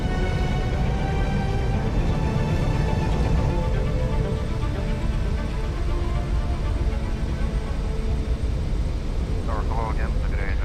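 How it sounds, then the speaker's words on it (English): An easyJet airliner weighing 66 tons brakes hard after touching down on an icy runway, a loud continuous engine roar with reverse thrust rumbling steadily throughout. "stop 66 tons of plane before the icy runway runs out"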